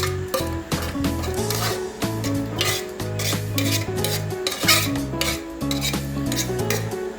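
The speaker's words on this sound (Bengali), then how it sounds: "এই যে দেখুন মাংস দিচ্ছি।" Chunks of meat tipped into a pot of potatoes for biryani: continuous clattering, scraping and rubbing of food and utensil against the metal pot, fairly loud and close, with no one talking.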